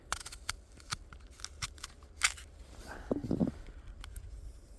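Crisp Luna apple cut with a knife, giving a run of sharp, close crackling snaps and then a short cluster of crunching cracks as the blade passes through the flesh, with no talk.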